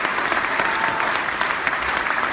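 Steady, dense audience applause at a concert fills the whole stretch at a loud, even level, with no voices breaking through.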